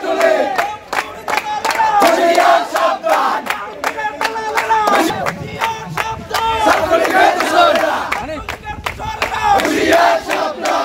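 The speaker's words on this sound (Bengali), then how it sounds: "শিল্পকলার গেটের বাইরে অবস্থান নেওয়া শিক্ষার্থীরা বিভিন্ন ধরনের স্লোগান দিতে থাকেন" Crowd of protesting students in Barguna chanting slogans outside the Shilpakala gate during a disrupted anti-discrimination student movement meeting, loud, dense and continuous rhythmic shouting in unison with brief dips between phrases.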